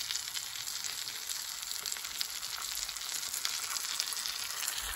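A cheesy beef tortilla melt with sauce and cheddar sizzles in a pan, a constant close crackling hiss with tiny pops, steady in level and undisturbed by speech.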